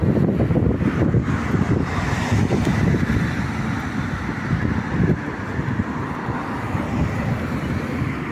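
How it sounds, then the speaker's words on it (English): Strong wind roars and buffets the microphone continuously on a street walk in Luton, UK, a loud, rumbling gusting with no voices. "Start to get windy."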